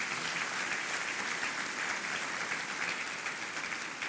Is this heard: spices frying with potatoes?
no